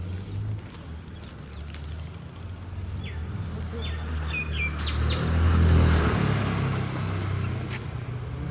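Small birds chirp and tweet in a garden near a berry tree, quick bright calls scattered through the middle over a low hum of traffic or an engine that swells briefly.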